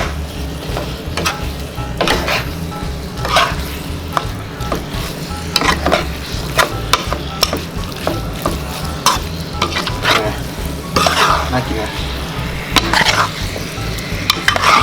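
Pork belly with jaew sauce being stir-fried and simmered in a pan, with steady close sizzling and bubbling broken by repeated scraping and clinking strokes of a spatula against the pan, loud and with no talking.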